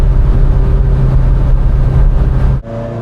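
A Ferrari engine droning loud and close while driving toward Maranello, a steady heavy roar that drops off abruptly near the end into a quieter idle-like hum.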